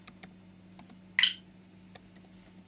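Typing on a computer keyboard, a few light scattered key clicks with one louder clatter in the middle, faint and close, with no talk over it.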